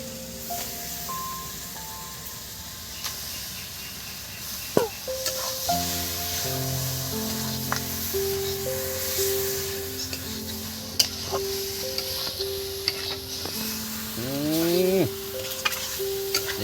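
Washed chicken is added to masala in a hot pan and stirred, giving a steady sizzle and clinking stirring sounds beneath tonal background music.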